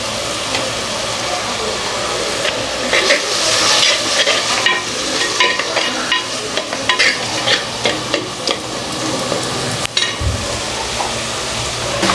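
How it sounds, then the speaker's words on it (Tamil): Prawns sizzle and fry in a spiced gravy with turmeric and chili powder, a steady crackle lasting the whole stretch, broken by scraping and stirring sounds, with no talking. "இப்போ வந்து இறா சேர்த்துக்கலாம்."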